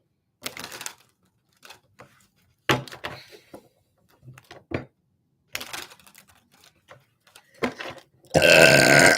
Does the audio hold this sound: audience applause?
no